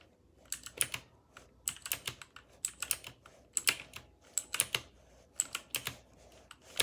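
Computer keyboard typing during online warfare gaming, quick irregular bursts of crisp close keystrokes in clusters with short gaps, fairly quiet and with no talk.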